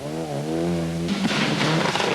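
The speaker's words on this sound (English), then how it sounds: "Locking brakes there on Dieter Depper's car as we watch the little Opel Astra" A little Opel Astra rally car on a stage of the 1995 24 Hours of Ypres in Belgium drives past close by, its engine droning steadily and then breaking into a loud, rough roar as it passes.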